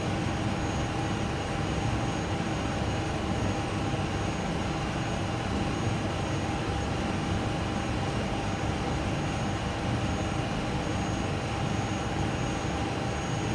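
Steady loud broadband roar of an American Airlines Airbus A300-600 on the runway before takeoff, an even, unbroken engine and cabin noise with a faint tonal whine, no voices.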